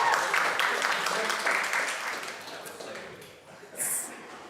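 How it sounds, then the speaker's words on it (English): An audience applauds at a search industry awards ceremony, the clapping loud at first and then thinning and fading, followed by a brief bright ping near the end. "Give him a round of applause."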